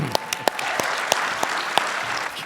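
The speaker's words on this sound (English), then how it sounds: "Let's give a round of applause" Scattered hand claps ring out in a brief burst of applause from a live audience at PAX East 2024, a handful of sharp individual claps over a soft crowd murmur.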